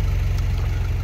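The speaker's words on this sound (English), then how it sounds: "I don't know if you can hear it on the video, but the revs are slightly fluctuating a little bit" A BMW M3 idles with slightly fluctuating revs: a steady low engine rumble with a rhythmic pulsing throb, close and continuous throughout.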